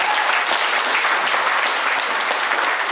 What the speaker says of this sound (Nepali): तपाईँ ताली बजाउन सक्नुहुन्छ।